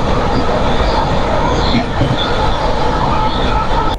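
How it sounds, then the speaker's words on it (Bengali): Steady, loud rumble and rattle of the Ajmer SF Express running at speed, heard from inside a carriage as a continuous dense roar with no pauses. "এইবার কিন্তু ট্রেনটা বেশ স্পিড নিয়েছে"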